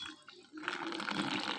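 Water poured onto a moss planting medium, starting as faint splashing and then swelling into a steady close trickle and patter of liquid soaking in.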